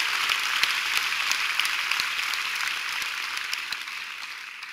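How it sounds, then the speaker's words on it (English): A church congregation applauds at a steady, dense level for the whole stretch, the crowd clapping softening slightly toward the end with no voices over it. "give God a big clap"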